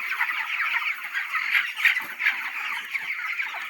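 Many birds cluck and chatter together inside a poultry farm shed, a steady, crowded wash of high calls with small swells, no talking.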